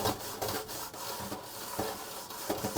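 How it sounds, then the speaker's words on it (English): A Scrub Daddy sponge with cleaning paste scrubs a vintage cast iron pan more than 60 years old, giving close, steady back-and-forth rubbing and scouring strokes with no talking. "we'll use the Scrub Daddy"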